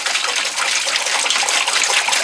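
A gallon of ammonia poured into a utility sink, a steady close gushing splash of liquid that runs continuously and evenly, with no voices over it.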